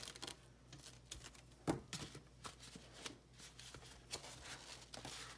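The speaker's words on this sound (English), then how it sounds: "I'm just gonna cut this in half, the shelf liner in half." Scissors snip through shelf liner in a quiet room, a run of soft, quick crisp cuts with one sharper crunch, close and faint, with no talking.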